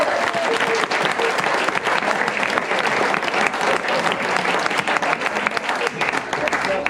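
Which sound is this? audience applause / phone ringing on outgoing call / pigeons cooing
audience applause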